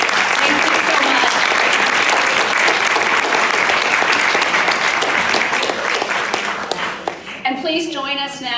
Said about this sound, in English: one more big round of applause for a wonderful day.